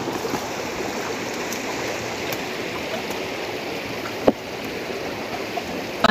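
A river stream flows in a steady, continuous broadband rush, close and fairly loud, with one brief sharp knock partway through.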